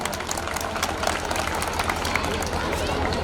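An audience at a school annual function gives a loud round of applause in honour of Vinod Kan, a thick, unbroken patter of clapping with some crowd murmur mixed in.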